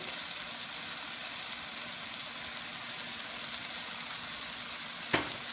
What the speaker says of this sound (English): let's make this shrimp paste to be brown